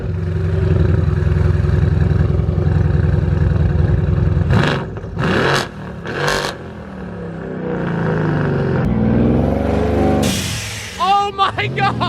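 Loud, close exhaust note from a twin turbo Lamborghini Huracan fitted with an Akrapovic exhaust, revving in sustained bursts with a sharp crackle near the end, as people exclaim over it.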